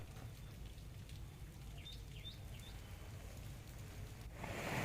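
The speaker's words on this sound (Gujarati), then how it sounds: "કલ્યાણપુર પંથકમાં લાંબા વિરામ બાદ ધીમી ધારે વરસાદ વરસ્યો" Light rain falls steadily over Kalyanpur villages after a long dry spell. A soft, constant hiss is heard, with a few faint bird chirps and a brief swell of noise near the end.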